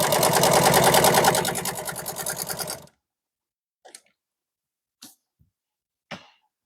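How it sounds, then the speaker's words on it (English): An industrial sewing machine stitches SUV bench seat upholstery along a marked line, a rapid close mechanical chatter for under three seconds, then a few faint isolated clicks and rustles. "So as you can see, I'm sewing right on my line."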